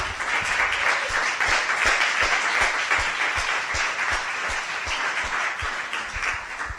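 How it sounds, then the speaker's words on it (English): An audience at a Parkdale Centre media night in Toronto breaks into loud, sustained applause, dense clapping from a large group that stays full and steady throughout. "a huge round of applause to everyone that's there, because that's a big group"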